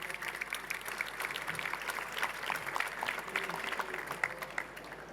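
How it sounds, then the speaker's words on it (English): Audience applause at a healthcare panel event as speakers gather for a group photo; a steady wash of clapping from a sizable crowd, fairly distant, with faint murmuring underneath. "please give them a big round of applause"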